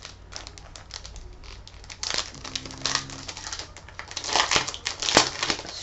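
Packaging around a mailed greeting card is unwrapped, giving close, busy crinkling and crumpling of paper and plastic with scattered sharp crackles and a few louder tearing bursts toward the end, no talking.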